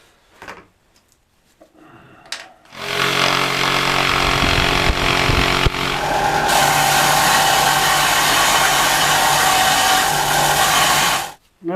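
After a few brief knocks, a power sander whirs loudly and steadily against wood for about nine seconds, then cuts off abruptly.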